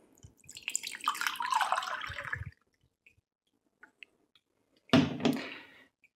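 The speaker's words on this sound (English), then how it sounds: "Now tip the hot water out and replace it with the same volume of cold water." Hot water tipped out of a mug and the mug refilled with cold water: a splashing pour of about two seconds, a pause with small drips, then a shorter second pour, close by with no talking.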